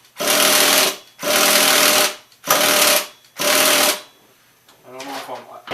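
Nitro engine of an HPI Savage RC truck revs in four loud, rasping bursts with short gaps, then drops to a rough, uneven idle.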